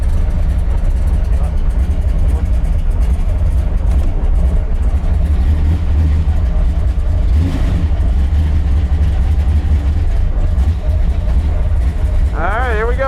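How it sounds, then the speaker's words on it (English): A muscle car rescued from a barn doing its first burnout on new round tires, a loud, steady engine roar held throughout with a brief rising whine near the end and voices talking over it. "first burnout with round tires."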